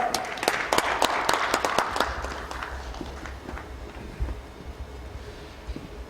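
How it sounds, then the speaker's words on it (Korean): Applause from a church seminar audience of pastors for a pastor after his talk, a dense spread of clapping that starts fairly strong and gradually thins and fades over several seconds. "다시 한번 우리 김창구 목사님께 감사의 박수를 드렸으면 좋겠습니다"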